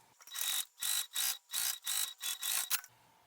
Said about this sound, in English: This time I will sew with that full seam allowance to attach all 3 of these pieces.